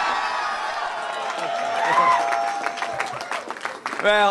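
Cheering and applause from a caucus-night crowd, with whoops and voices rising over steady clapping, loud and close, swelling in bursts.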